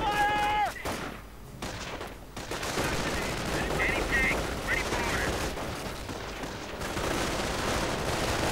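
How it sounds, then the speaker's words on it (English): Automatic weapons fire in a World War II strategy video game, with riflemen and Panzer grenadiers in combat: dense, continuous bursts of gunfire and blasts fill the whole stretch at a steady, loud level, with a brief tonal game sound at the start. "Lots of automatic weapons firing, blasting, shooting."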